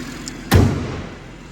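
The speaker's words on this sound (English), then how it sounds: "So let's pop the bonnet down." The bonnet of a BMW M140i Shadow Edition is pushed shut, one loud, close metallic thud that rings out briefly before dying away.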